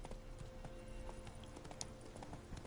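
Roach, Geralt's horse in The Witcher 3: Hearts of Stone, gallops with steady hoof clip-clops over a dense game soundscape, moderately loud and continuous.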